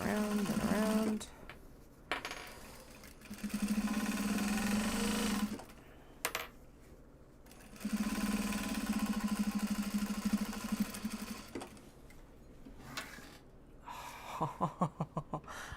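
A sewing machine winding a bobbin, running in several long steady whirring spells broken by short pauses and quieter handling noises, close by.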